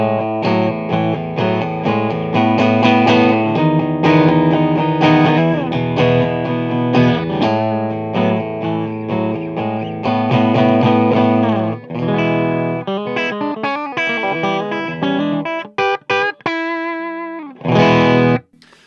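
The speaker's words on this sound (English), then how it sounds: "But this is a really great sound on a bridge pickup." A Reverend Billy Corgan electric guitar on its bridge pickup plays sustained, overdriven chords and riffs, loud and close, shifting to choppier, muted strums toward the end, with no talking.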